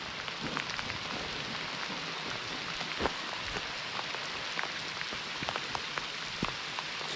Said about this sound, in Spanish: Vaya manera de llover.